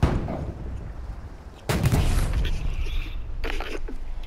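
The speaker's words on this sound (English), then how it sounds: "Oh, our tank's attacking it" A tank firing in the World War II shooter Hell Let Loose: a heavy, sudden boom cuts in mid-clip with a long rumbling tail, followed by a second sharp report, under distant battlefield noise.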